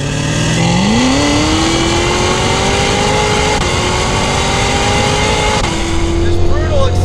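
A Hennessey-tuned 850 horsepower Cadillac CTS-V accelerates hard on a proving-ground test track, its engine note climbing into a loud, sustained roar that holds through a gear change and keeps pulling until it eases off at the end.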